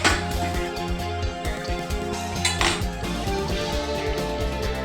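Mashed potatoes stirred into boiling potato masala in a pot, with a spoon scraping and clinking against the metal in quick, irregular strokes over a musical background and no speech.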